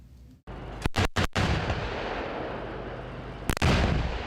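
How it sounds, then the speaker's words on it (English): K2 tanks and K9 howitzers fire during a staged South Korean military assault on a countryside hillside: a cluster of sharp, loud blasts early on, then another heavy boom, all over a continuous roar of rumble and wind. "A highly choreographed attack on a hillside in the South Korean countryside. K2 tanks, K9 howitzers, Apaches and drones."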